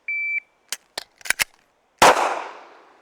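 A shot timer beeps once, then a pistol fires several sharp, loud shots during target training on an outdoor range. The last blast rings out with a long fading echo.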